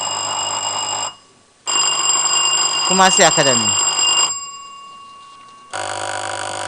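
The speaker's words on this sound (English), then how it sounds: "Let's make sure our bells are working well" Electronic answer bells on a school quiz contest buzzer system sound in turn as they are tested, long steady ringing tones with brief gaps between them, while a host speaks over them.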